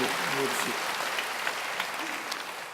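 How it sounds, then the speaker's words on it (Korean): A church congregation claps in welcome, a broad, moderately loud patter of many hands that carries on evenly, with a brief voice audible near the start. "여러분 크게 박수로 환영하시죠"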